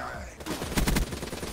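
A video game gun fired from the hip lets off a short, tight burst of rapid automatic shots, loud and close, after a brief quieter lead-in.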